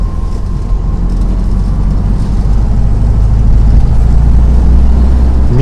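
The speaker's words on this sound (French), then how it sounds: "Mythique bruit. Volkswagen." A Volkswagen Beetle 1200 engine drones steadily while the car drives, a loud, continuous low rumble with road noise and no talk.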